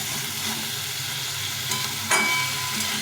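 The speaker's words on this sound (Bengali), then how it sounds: "এইভাবে করে সুন্দর করে কষিয়ে দিতে হবে" Ginger, cumin and green chilli paste sautéing in a pan for a Bengali fish curry, giving a steady close hiss and sizzle with a sharper stirring scrape partway through.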